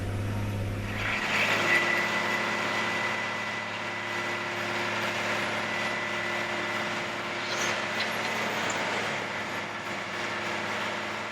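A Cat 730C articulated truck with a C13 diesel engine runs steadily, a loud continuous drone and rumble with a faint higher whine holding level throughout, heard alone without talk.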